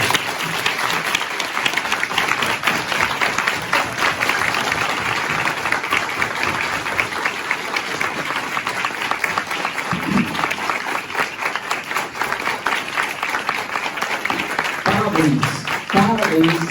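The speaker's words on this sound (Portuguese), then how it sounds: "aquela salva de palmas assim, como se fosse a última da vida" Sustained, dense audience applause fills a hall at a medical law event, steady and loud for many seconds, with a few voices and cheers rising near the end.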